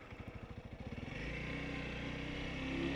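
A Honda CRF300L motorcycle idles in first gear with a jerky throttle: choppy, pulsing putters give way to a steadier, rising engine drone, close by.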